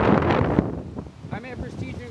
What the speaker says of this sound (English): Oh my Lord, it's so windy today.